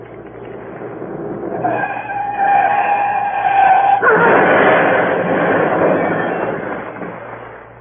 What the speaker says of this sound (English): Large green Daimler speeding south.